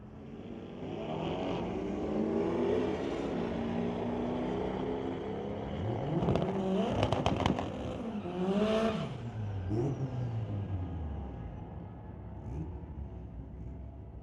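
Street-legal cars, including a Corvette, launching at a drag strip on a Friday night, with engines revving and rising in pitch as they pull away, several loud surges and a roar that fades into the distance.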